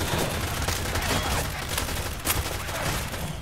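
Rapid overlapping gunfire from a zombie shooter, Left 4 Dead 2, a dense continuous barrage with no clear gaps, moderately loud and fairly close.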